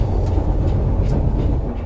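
A Glasgow Underground subway train runs under manual driving, a loud, close, continuous rumbling roar of wheels and carriage with faint rhythmic rail clicks over the top.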